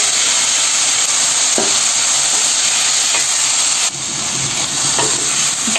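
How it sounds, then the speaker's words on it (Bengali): Prawns frying with onion in a pan give off a loud, continuous sizzle and hiss, close up, with faint stirring scrapes and no talking. "একটু পেঁয়াজের সাথে ভেজে নিলাম।"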